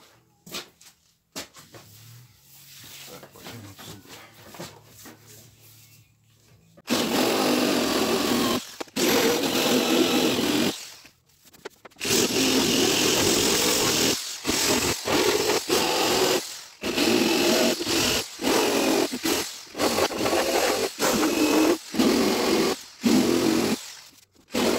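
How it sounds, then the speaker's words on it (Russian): A drill spins an abrasive coral disc against the rusty front door of a Renault Logan, a loud, harsh grinding whine in long bursts broken by short pauses, after quieter handling sounds at the start. "зачищать буду вот таким коралловым диском"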